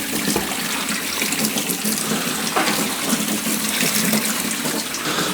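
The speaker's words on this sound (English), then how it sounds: "So we're keeping the water on," Hot water pours steadily from a tap into a clogged laundry sink, a constant splashing gush that runs unbroken and close throughout.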